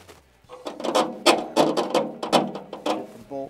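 A ratchet tightens bolts on a Jeep Wrangler JK front fender bracket, producing a quick series of close, crisp clicking bursts in an uneven rhythm, with no voices.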